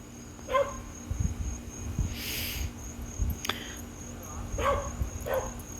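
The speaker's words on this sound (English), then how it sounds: "Dog going off on the neighbors." A dog barks a few times at a distance at the neighbors, short separate yaps over a soft background of insects and outdoor hum, with a light breeze.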